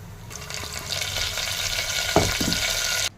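Garlic dropped into hot oil with mustard seeds and cumin, a steady sizzling hiss with a brief clink and a surge of crackle partway through, close and moderately loud, no talk, then sudden silence.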